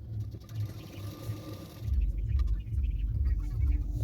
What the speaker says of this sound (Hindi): सिर्फ किनारे किनारे पे सिलाई कर रही हूँ